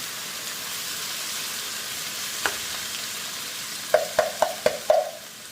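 Pineapple goes into a frying pan over a soft background sizzle, followed by a quick run of five clattering spoon-on-pan knocks as it is stirred.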